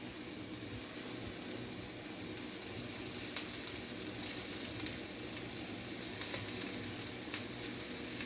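Quinoa sizzles and fries in a hot pan with mixed mushrooms, a soft, constant crackling hiss that swells slightly partway through, with occasional light stirring clicks and no talking.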